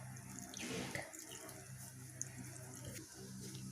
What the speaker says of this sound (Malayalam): ഇനി നമുക്കിതിനെ ഈ തുണി മാത്രമായിട്ടൊന്ന് പൊതിഞ്ഞെടുക്കാം. എന്നിട്ടൊന്നിങ്ങനെ പിഴിയാം.